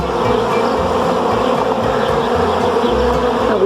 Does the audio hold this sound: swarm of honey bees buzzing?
yes